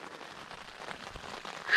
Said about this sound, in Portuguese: Chuva!